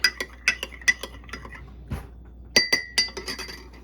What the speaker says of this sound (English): 3/4 of a cup of milk, and I'm going to add a tablespoon of vinegar to it. And I'm going to stir that.